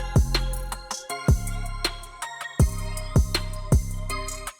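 Deep, clean 808 sub-bass notes with no distortion hit in a steady beat with crisp drums, each bass tone sustaining and sliding slightly, smooth rather than gritty.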